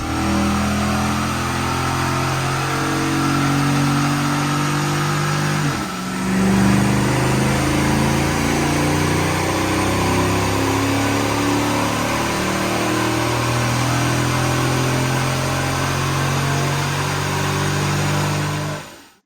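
A Dodge Durango R/T with the 6.4 engine, fitted with an aftermarket intake, throttle body and tune, runs a fifth-gear dyno pull, a loud, steady engine roar building and holding for nearly twenty seconds with a brief dip partway through.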